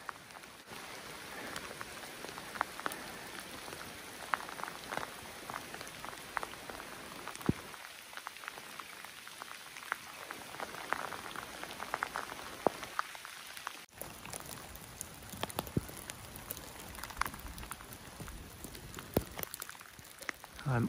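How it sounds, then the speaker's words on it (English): Steady rain falls at a mountain dispersed campsite, a faint continuous patter of drops on surfaces with scattered louder taps and no voices. "But for some reason, I don't mind this area when it rains."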